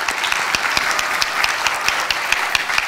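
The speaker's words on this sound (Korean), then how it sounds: "박수." A church congregation claps steadily during a Sunday worship service, forming a dense, continuous round of applause that fills the room with no voices over it.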